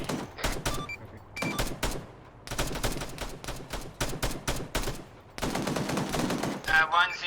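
Bursts of suppressive rifle and machine-gun fire from an Arma 3 military simulation: rapid clusters of loud, sharp shots in several volleys separated by brief pauses, close and dominant.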